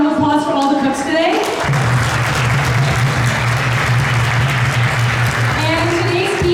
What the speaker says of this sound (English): So let's give a round of applause for all the cooks today.